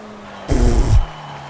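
A race car engine in a driving game gives a brief half-second roar that rises over a low idle and then cuts back, close and fairly loud, with no one talking.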